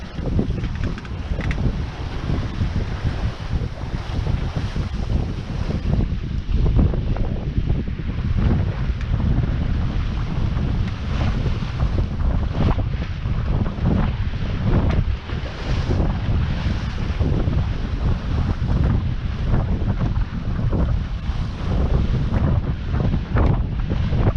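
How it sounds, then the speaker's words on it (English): A sailboat running north in good wind along the coast, with steady loud wind buffeting the microphone, water rushing and slapping against the hull, and a constant dense roar throughout with no voices. "Coming up is going north, also having good winds, good sailing"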